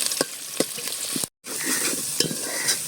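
Chopped onion frying in pungent mustard oil and stirred in a pan for a handi chicken, giving a steady close sizzle broken by scraping stirring strokes and one brief dropout.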